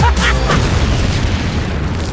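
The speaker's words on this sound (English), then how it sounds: "Explosion! Hell yeah!" A loud explosion in a film trailer bursts at the start, then rolls into a long, heavy rumble that slowly fades.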